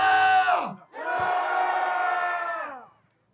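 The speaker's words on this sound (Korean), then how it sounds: "저기 국회가 들리도록 함성 한번 외쳐보겠습니다" A crowd at a protest rally by healthcare groups bellows a loud, sustained collective battle cry in two long surges, the second held for about two seconds before cutting off into silence.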